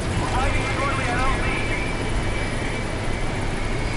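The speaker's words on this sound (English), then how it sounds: "you can just call a helicopter back in, and they'll take care of it." A helicopter arriving in Metal Gear Solid 5: The Phantom Pain, a loud, steady rotor and engine drone filling the whole stretch.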